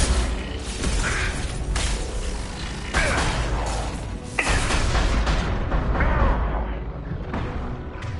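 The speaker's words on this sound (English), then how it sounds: "Enemy! Taking heavy fire." Heavy gunfire from the video game Mass Effect 2 keeps up a dense, loud barrage of rattling shots and booming impacts with no letup, set against constant battle noise.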